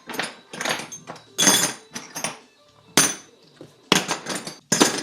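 Drill bits are dropped back into a Makita drill box, making close, bright metallic clinks and clattering rattles in several separate bursts with short pauses between.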